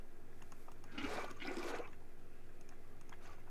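In Minecraft, a bucket scoops up water with a short watery swoosh and gurgle lasting about a second, heard alone over a quiet background.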